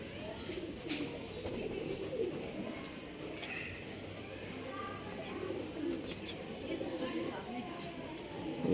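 Pet pigeons kept for sale coo softly and repeatedly, near and low, with a few faint chirps over a busy background and some murmured talk.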